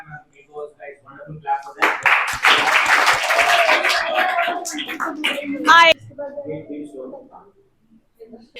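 Audience applause at the close of a debate between teams, a burst of clapping rising for a few seconds and cutting off, with speech before and after.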